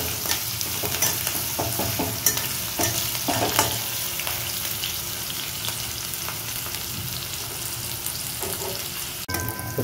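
Green chillies fry in hot oil with a dense, continuous sizzle and crackle, broken by stirring scrapes and a sharp utensil knock near the end; nobody speaks.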